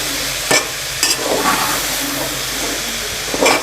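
Chicken filling with soy sauce is stirred in a hot pan for mini rolls, giving a steady sizzle broken by a few sharp scraping knocks of the spoon, with no talk.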